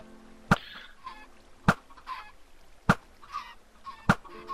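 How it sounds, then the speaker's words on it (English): Chicks hatch from a mass of eggs in a Minecraft chicken farm, giving loud, sharp popping clicks about once a second, each followed by softer clucking chirps of the Minecraft chickens, with no talking. "So if you'll flick up the switch, we'll start hatching the chicks."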